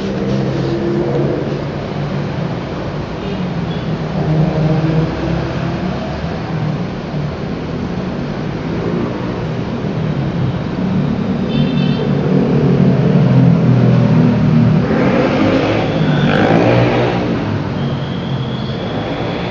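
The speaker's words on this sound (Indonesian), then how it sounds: "arus lalu lintas di Jalan Raya Tajur Bogor ya." Steady road traffic on Jalan Raya Tajur in Bogor, a continuous loud rumble of passing cars and engines with occasional revving swells and no pauses.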